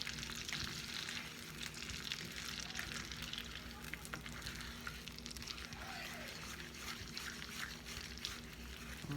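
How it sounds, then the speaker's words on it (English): Praline topping mixture for a French toast casserole is stirred in a pan, a steady bubbling sizzle filling the clip with faint scraping underneath, continuous and close. "get that all stirred up in there real good"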